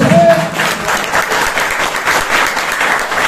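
An indoor audience at a networking seminar applauds itself, a loud sustained burst of many hands clapping together with scattered crowd noise.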